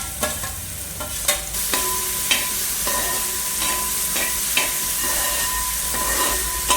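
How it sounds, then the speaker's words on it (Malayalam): Soya chunks sizzle and fry steadily in leftover oil while being cooked down into a biryani masala gravy, with repeated sharp clinks of a spoon stirring and scraping the pan at a roughly regular beat, no talking. "ബാക്കിയുള്ളതൊക്കെ നമുക്ക് ഈ ബാക്കിയുള്ള എണ്ണയിലിട്ടിട്ട് നന്നായിട്ട് അങ്ങോട്ട് വേവിച്ചെടുക്കുക"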